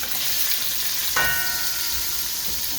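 Onion dropped into hot lamb oil in a pot bursts into a loud, steady sizzle that hisses on without pause, with a brief sharper crackle as the pieces hit the fat.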